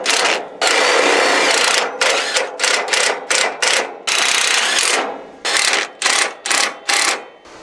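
A cordless impact driver drives screws during a repair on a Mazda B2200 pickup, firing in loud, close bursts of hammering rattle, first one long run, then a string of short stop-start pulses.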